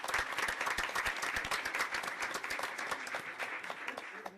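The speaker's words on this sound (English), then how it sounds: "Let's give a round of applause for Mr. Kelly." Audience applause at a city council meeting: a dense, steady patter of many hands clapping at moderate volume, continuing evenly throughout without speech.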